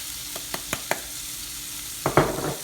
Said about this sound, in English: my chopped onion in the same pan. I'm going to let this get nice and brown also.